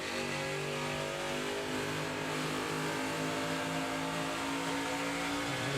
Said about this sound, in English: He lifts off the throttle to give the 18-car a spot to get in line.